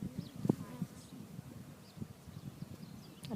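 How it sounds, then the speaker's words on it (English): A soft, steady hum of honeybees flying at a hive entrance fills the air, with a few closer buzzes passing by and faint bumps nearby. "all the bees are coming back with their honey and stuff, so there's lots of flight."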